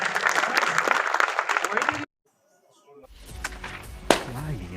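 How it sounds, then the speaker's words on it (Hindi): Loud applause from an audience at a formal Hindi-language event honouring a speaker, dense clapping for about two seconds, then a sudden drop to silence before faint room noise and speech-like sounds return. "जोरदार तालियों के साथ।"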